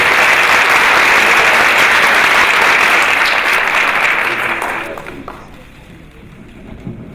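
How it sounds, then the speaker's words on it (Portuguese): Audience applause for Denise Fraga at a talk at Sesc Santo André, a loud, dense wash of clapping from a crowd that holds steady, then thins and fades out toward the end. "eu queria pedir uma salva de palmas para a Denise Fraga"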